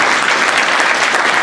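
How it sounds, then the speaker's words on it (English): Steady applause from a college audience at a sponsor welcome event, dense and even throughout, with no voices breaking through. "I think that also deserves a round of applause"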